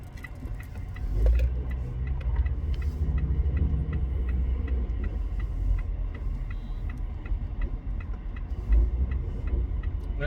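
Continuous low road traffic rumble heard from inside a vehicle in heavy traffic, steady and moderately loud with a faint regular ticking on top, no voices.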